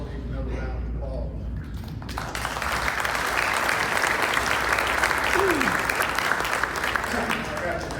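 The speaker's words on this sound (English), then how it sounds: "we all need another round of applause." Audience applause at a 2024 CT 100 business meeting, a quieter room that swells into full, steady clapping after about two seconds, with some voices mixed in.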